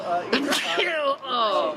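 A single sharp sneeze from a person in a casual cafe-style music show setting, followed by a stretch of voiced, tonal vocal sound.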